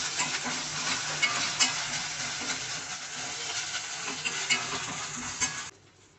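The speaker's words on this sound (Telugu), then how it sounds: "ఇది పచ్చివాసన పోయే వరకు ఫ్రై చేసుకోండి" Ginger garlic paste frying in hot oil in a pot for aloo kurma, a steady close crackling sizzle with occasional stirring scrapes, cutting off abruptly at the end; no talking.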